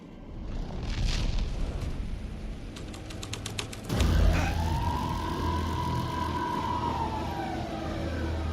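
Police car siren in the Alan Wake 2 video game, a single sweeping wail rising and falling loudly after a burst of rumble and clatter, running steadily to the end with no talk.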